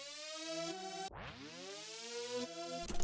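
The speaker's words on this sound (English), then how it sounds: "it's kind of giving it the effect when like you stop an actual vinyl record" A buzzy sawtooth synth lead in a Billie Eilish–style beat suddenly drops in pitch and slows like a vinyl record being stopped, then swoops back up and carries on; quiet and alone.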